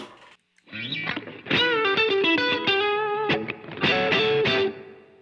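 An electric guitar through a Fender Reverb pedal plays a sequence of sustained chords and notes with a lush reverb tail, after a brief silence at the start; no voices.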